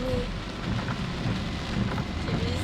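Heavy rain beats steadily on a car during a warning-level downpour in northern Kyushu, Japan, a dense continuous roar with low rumbling underneath and no pauses, close and loud with no voices.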